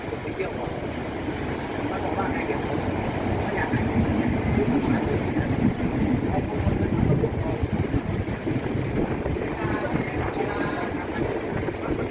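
A Thai ordinary passenger train, number 261, runs steadily after leaving Nakhon Pathom station, its continuous low rumble and rattle holding at an even, fairly loud level throughout.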